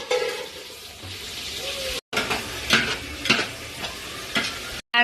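Biryani with onions and spices frying and being stirred in a pot, a steady sizzle broken by scraping stirs. There are two brief silent gaps, and faint background voices can be heard.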